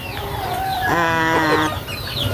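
An Asil chicken gives a drawn-out, tonal cluck while feeding amid noisy outdoor background chatter of other fowl, fairly close and loud.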